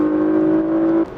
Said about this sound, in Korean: 자, 이런 엔진 사운드